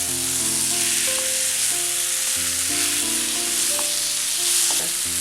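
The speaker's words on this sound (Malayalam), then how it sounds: "ചിക്കൻ ചേർത്തിട്ട് ഇതൊന്ന് ഇളക്കി കൊടുക്കാം." Marinated chicken sizzles loudly in a pan while being stirred, a continuous close frying hiss with scraping and tonal hum from the stove underneath, no talking.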